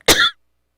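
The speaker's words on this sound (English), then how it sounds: "I'm going to cough." A single sharp cough merges into a brief throat clear, close and fairly loud, then silence.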